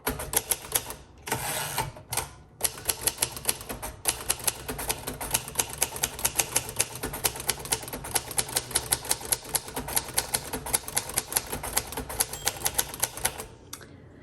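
A 1953 Royal Arrow manual typewriter is typed on at a brisk pace, with dense, crisp key strikes and a couple of brief pauses near the start, heard close and with no talking.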